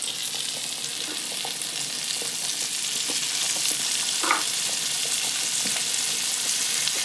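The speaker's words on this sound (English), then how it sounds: "And you should be able to hear that sizzle." Chicken sizzles steadily in a hot frying pan, a close, even crackle with small pops and a brief stir or scrape of a utensil midway, no voices.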